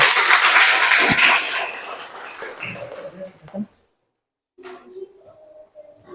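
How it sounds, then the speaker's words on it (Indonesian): Applause from a classroom of students for a presenting group during a teaching session, a dense burst of clapping at first that fades out, followed by a short pause and then quieter room noise. "berikan aplaus dulu untuk kelompok 1"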